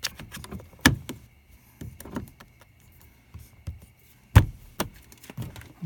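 Door panel clips on a Mazda Miata being pressed into the door, a series of sharp plastic snaps and knocks at irregular intervals, close by and distinct against quiet handling sounds.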